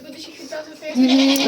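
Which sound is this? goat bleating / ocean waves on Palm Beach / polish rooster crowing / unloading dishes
goat bleating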